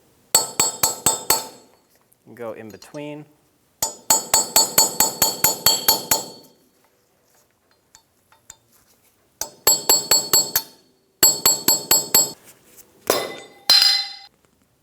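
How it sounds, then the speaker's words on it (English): Flat chisel struck with a hammer to pry off the wheel cap on a 2000-2006 Toyota Tundra front hub: bursts of rapid, ringing metallic taps in close, loud runs separated by pauses, with a brief spoken remark between strikes. "I'm going to use a flat chisel and a hammer."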